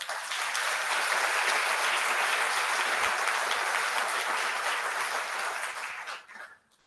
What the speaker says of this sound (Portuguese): Aplauso por Paralímpico, merece.